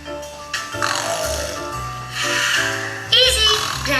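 A voice imitates an elderly grandfather snoring, with drawn-out rumbling breaths in a slow rhythm, close and loud, with a child-like voice mixed in.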